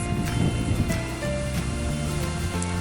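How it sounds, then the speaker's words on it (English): Wind and lapping water on a lakeshore at Saint Albans, Vermont, with boats out on the lake; a steady, fairly loud broadband wash with low rumbling gusts and no talking. "As you can hear, the boats on the water, and you can feel the wind on your face."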